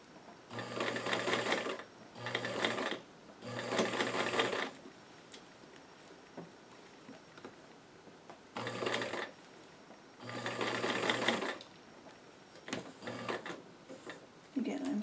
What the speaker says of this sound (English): Again, I'm sewing slow enough